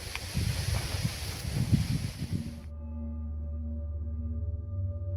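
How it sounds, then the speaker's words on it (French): Gusty wind buffets the microphone with a rough roar for a few seconds outside a military barracks, then drops away, leaving a low steady hum. "Avec ce vent, cette enquête sera difficile à mener"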